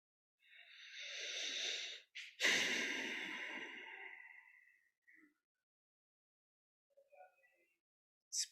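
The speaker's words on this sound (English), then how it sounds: "allow those deep breaths if that's part of your practice" During a guided meditation, one person takes a long, slow, deep breath in and then a longer, heaving breath out, close and soft in a quiet room, followed by a few faint rustles.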